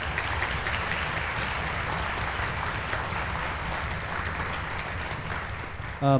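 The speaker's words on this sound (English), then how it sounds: "Yes, we can clap for him." A concert audience at a UGA Middle East Music Ensemble show applauds the sound director, steady dense clapping throughout, close and even, with no talk.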